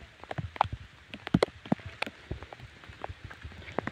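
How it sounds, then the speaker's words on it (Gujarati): Rain falls beside a house in Gujarat, heard as scattered, irregular drips and taps over a faint background hiss, quiet and close. "હાલ અમારે અત્યારે વરસાદ વરસી રહ્યો છે"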